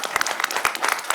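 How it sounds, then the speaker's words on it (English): A city council meeting audience gives a short burst of clapping, a brisk, fairly close patter of many hands with no talking over it. "so we can give you a round of applause"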